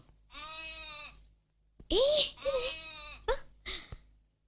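Young goat kid bleating in a village home, two or three wavering, rising cries with short pauses between them, loud and close, with no talk over them.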